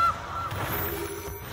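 A golden goose honks once in a Magic: The Gathering Arena match, a short, close game sound effect heard clearly with no talk over it.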